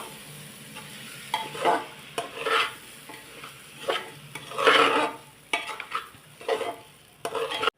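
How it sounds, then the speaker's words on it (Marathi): A spoon stirs rice for moong dal khichdi around a cooking pot in a series of scraping, rustling strokes, each a second or so apart, with a faint sizzle underneath. "आता हे छान व्यवस्थित हलवून घेऊया"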